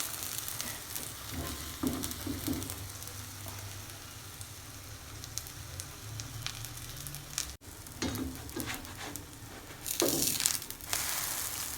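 Food frying in a pan at home, browning before being flipped, with a steady low sizzle and crackle running throughout and occasional louder bursts, no talking.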